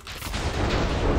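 Explosion from a TNT block in the Minecraft video game, a dense, sustained boom with broad rumbling noise that holds loud for just over a second with no pause.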